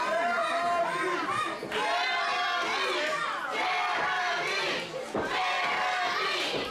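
A sellout wrestling arena crowd at the PWA Arena cheers and chants continuously, loud and dense, with rising and falling waves of shouting and no clear gaps.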